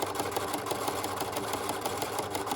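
A sewing machine runs steadily, stitching a rug made from coiled clothesline on a flat surface, with a continuous close, even mechanical whir and no talking.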